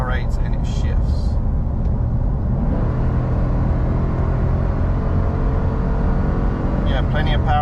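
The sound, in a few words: 2023 Ford Tremor 7.3 gas engine accelerating, towing a large boat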